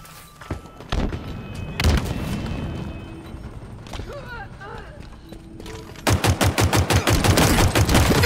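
Automatic gunfire and explosive thuds from the Halo video game, loud bursts scattered throughout, with a dense rapid volley of shots in the final seconds.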